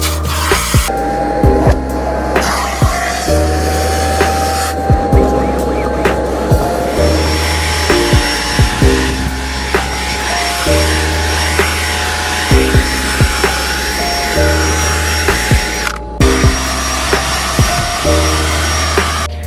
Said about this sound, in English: Luckily with this new extractor there is not really a challenge for any of the seats anymore.